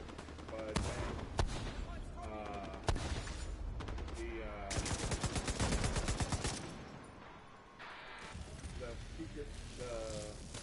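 Rapid SMG gunfire in a PS4 video game, several close, loud bursts of automatic shots with pauses between them, mixed with other game effects and a voice talking.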